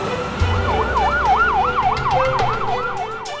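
An ambulance siren wails in rapid, regular rising-and-falling cycles, loud and fairly close, over a low rumble of road traffic.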